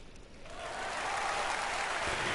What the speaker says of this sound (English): There was a huge wave of applause.